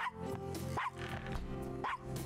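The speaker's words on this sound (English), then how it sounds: "With an annoying little dog." A small dog in the 1993 video game Gabriel Knight: Sins of the Fathers yaps twice, sharp and close, over a dense, continuous game music and ambience bed.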